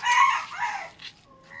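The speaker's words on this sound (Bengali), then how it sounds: "আমার মায়ের শখের মুরগি।" A rooster crows once from a backyard chicken coop kept by the family, a loud, close, rising-then-falling call lasting under a second, followed by a few softer clucks and bird chirps with no talk.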